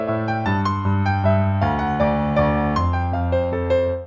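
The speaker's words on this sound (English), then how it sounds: "if you want to do the piano solo, I will show you that now. Here is what the first line is going to look like." The opening line of the piano solo on piano, a flowing run of bright right-hand notes over sustained left-hand bass, close and clear, with no talking.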